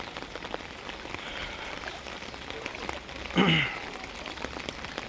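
Heavy rain pours steadily over a flooded village in Ramrai, a dense continuous hiss of drops on surfaces with a brief louder sound partway through.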